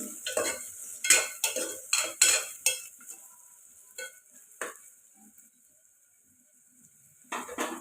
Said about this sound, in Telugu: ఇప్పుడు కలుపుకొని ఫ్రై చేసుకోవాలండి